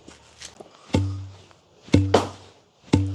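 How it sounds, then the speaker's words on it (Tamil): Soaked white rice pounded in a wooden mortar in a village: three heavy, close thuds roughly a second apart, each with a short ringing tail, plus a few lighter knocks. "இப்போ நாங்கள் இடிச்சு தான் எடுக்க போகிறோம்"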